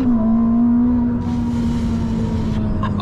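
A 1000 hp car weighing about 1600 kg accelerating hard, a loud, close engine drone with a steady pitch held throughout, no talk over it.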